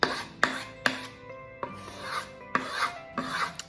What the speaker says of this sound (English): deburr on the old balsa wood